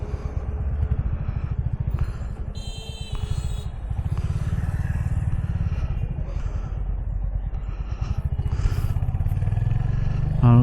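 A Royal Enfield Hunter 350 motorcycle riding on a hard road, its steady low engine drone and road rumble running continuously and close, with no one speaking.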